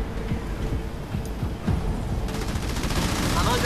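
A Halo Wars 2 battle fills with a dense fusillade of rapid gunfire, loud and constant over a rumbling background.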